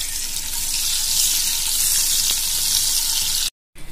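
Eggs fry in hot oil with a loud, steady hiss and sizzle close by, which cuts off abruptly near the end.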